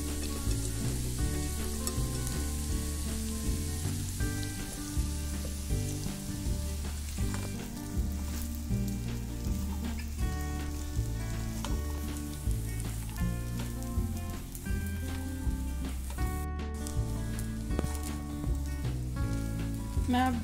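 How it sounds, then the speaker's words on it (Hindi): Sabudana khichdi mixture sizzles steadily in a pan over low heat as it is gently stirred, with a dense continuous frying crackle and soft scraping throughout. "मैं अब धीरे धीरे इसे सबको मिला रही हूँ।"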